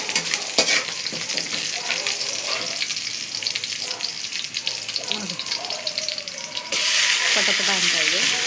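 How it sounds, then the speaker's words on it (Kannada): Garlic and green chillies fry in oil while being stirred, giving a continuous sizzle with scraping stirs, and a brighter, louder hiss in the final seconds. "ಬೆಳ್ಳುಳ್ಳಿ ಹಾಕ್ಕೊಂಡು ಸ್ವಲ್ಪ ತಿರುಗಬೇಕು. ಅದನ್ನ ಎಣ್ಣೆಯಲ್ಲಿ ನೀಟಾಗಿ ಸ್ವಲ್ಪ ಮೆಣಸಿನ್ಕಾಯಿದು ಸ್ವಲ್ಪ ಇದಾಗಬೇಕು"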